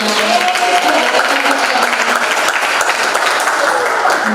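Children in a classroom give a burst of clapping that fills the whole moment, dense and close, with no voices on top.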